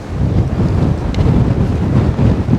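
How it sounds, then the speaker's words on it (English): Strong wind buffeting the microphone, a loud, low rumbling roar that gusts unevenly throughout. "It's super windy"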